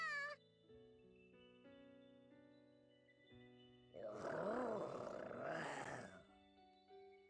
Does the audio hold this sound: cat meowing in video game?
yes